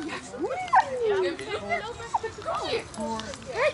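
A dog yips, whimpers and barks during an outdoor Saturday dog-training session, short excited calls scattered among people talking and calling out commands, with children and chatter in the background.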